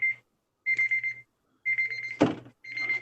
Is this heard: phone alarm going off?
yes